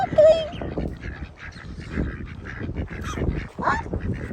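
Honking, goose-like calls from waterfowl around a duckling at a dairy farm in El Paso, Texas: a sharp close call at the start, then repeated fainter honks and quacks over rustling outdoor background.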